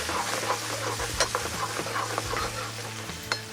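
Fish curry sauce made with coconut milk and mushrooms sizzles and bubbles loudly in a pan close by, with a constant frying hiss and occasional stirring scrapes.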